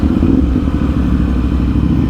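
A motorcycle rides through city traffic, its engine giving a steady, close, continuous low rumble with no breaks or clear revving.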